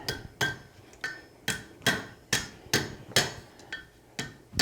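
Hammer blows on hot steel while bending the prongs of a forged meat hook, about a dozen sharp metallic strikes at a steady, slightly uneven rhythm, close and clear with ringing overtones and no talk.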